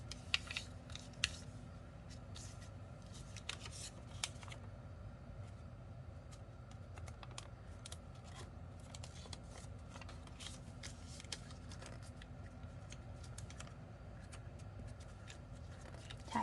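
Paper is folded and pressed into creases for a craft, with faint, scattered crinkles and soft rubbing over a quiet background that runs throughout.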